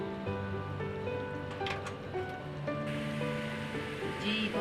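Mutton sizzling and frying in oil for gobi gosht, a steady dense crackle and hiss running throughout at moderate, even loudness with faint tonal hum underneath.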